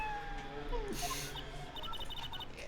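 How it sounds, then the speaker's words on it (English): A kitten in the Apollo Justice: Ace Attorney video game gives a short, thin meow over quiet background music, with faint chirping blips toward the end. "Kitten! Hi, a kitty cat!"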